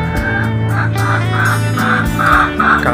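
Chickens kept in a cage on a city rooftop make a run of loud, repeated honking calls, roughly evenly spaced, over a steady low background hum.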